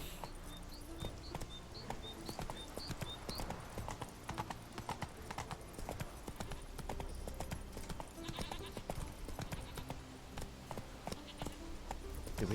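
Roach the horse's hooves clip-clop steadily in The Witcher 3, a quick, continuous patter of hoofbeats over game ambience and music, fairly close and even in level throughout.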